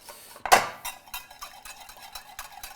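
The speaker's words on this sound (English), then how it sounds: "Just go ahead and whisk that in." Whisking soy sauce into egg in a bowl, heard as a sharp clink of metal against the dish followed by a quick run of light, rhythmic taps and scrapes, close and clear with no talk.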